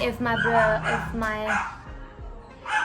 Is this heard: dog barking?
yes